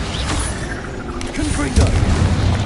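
A Bombarda blast spell in the Hogwarts Legacy video game goes off as a deep booming explosion with rumbling debris, loud and close, layered over continuous game noise.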